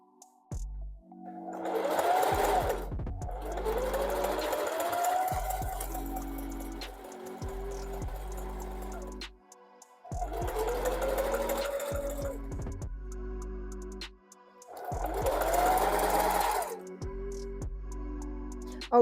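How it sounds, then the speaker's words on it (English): A sewing machine stitches wig tracks in three long bursts of fast mechanical whirring, stopping and restarting between runs, close and fairly loud with no talking. "And I'm just gonna sew like normal"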